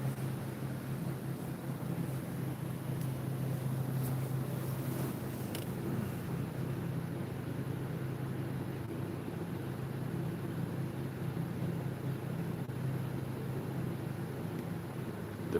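A pulse motor multi-rotor spins steadily at about 1600 RPM, giving a continuous low mechanical hum with a faint hiss on top that stays even and unbroken throughout.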